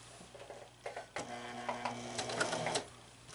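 A sewing machine stitches a teddy bear in a series of short mechanical whirring runs with brief pauses, close and fairly quiet.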